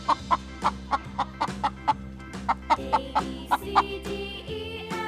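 A hen clucks in a steady series of short, sharp, evenly spaced calls, about a dozen in quick succession, close and clear over a faint background hum.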